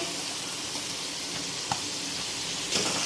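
Sliced onions sizzling in masala in a pan, a steady soft frying hiss with a couple of faint stirring clinks, no talking.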